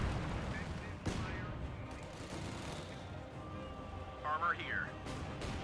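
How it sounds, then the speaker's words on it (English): Mortar and artillery fire in the strategy game Company of Heroes 2, with a few muffled thumps and booms sounding at a distance under battle noise and brief talk. "they have a lot of mortars somewhere"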